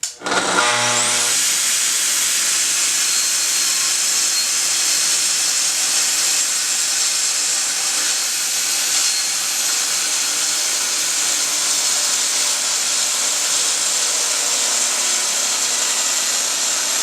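A power saw cuts tapers on hall table legs, a loud steady high whine running unbroken for most of the stretch after a brief spin-up, with no talking.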